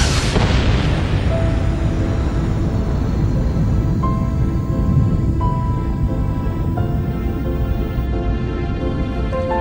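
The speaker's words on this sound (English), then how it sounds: "this fireball exploded" A primordial fireball explodes in one deep, loud boom that opens with a sharp crack and then rolls into a long, thundering rumble. The rumble holds steady for about ten seconds, with a few faint tonal hums drifting through it.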